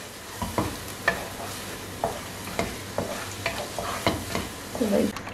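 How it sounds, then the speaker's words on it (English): Eggs being lightly scrambled in a pan, a soft frying sizzle broken by repeated spatula taps and scrapes at an uneven rhythm, close and moderately loud, with no talk. "Scramble it lightly like this"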